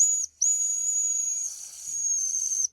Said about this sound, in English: Hold the whistle.